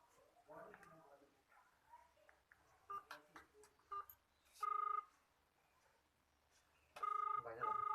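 A mobile phone sounds its dialing and call tones indoors, faint scattered beeps building to a few louder steady electronic tone bursts, with soft talk and small background noises between them.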